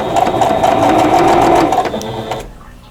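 A sewing machine runs steadily, stitching fabric pieces of a stash-buster quilt block together with a quarter-inch seam; the close, busy whir holds for over two seconds and then cuts off abruptly.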